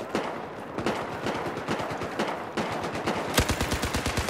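Machine gun fire from the video game Battlefield 4 rattles in rapid continuous bursts, loud and close, with a heavier burst near the end and no talking during the shooting.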